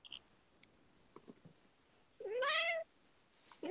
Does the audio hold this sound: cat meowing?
yes